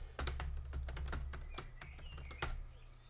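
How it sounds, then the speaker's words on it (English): A password typed on a computer keyboard: a quick burst of crisp, close keystrokes in an irregular rhythm, with a louder tap near the end, and no talking. "if I can type in the password correctly."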